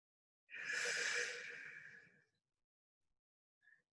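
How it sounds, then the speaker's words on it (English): One long, soft exhale during a slow yoga neck stretch, airy and close, fading out over about two seconds, followed by a brief faint breath. "Breathing."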